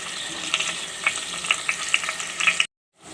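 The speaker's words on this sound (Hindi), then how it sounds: "आलू को मैंने 1 से 2 मिनट अच्छी तरीके से फ्राई कर लिया है।" Potatoes fry in a pan with a steady sizzle, punctuated by sharp clinks of a utensil against the metal at irregular intervals, close and fairly loud before cutting off abruptly.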